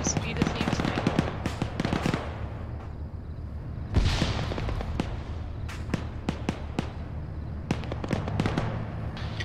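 Gunfire in the military shooter game Arma 3 during urban combat, rapid bursts of automatic fire and single sharp shots cracking close by with echoing tails, including a heavier blast, loud and dense across the clip.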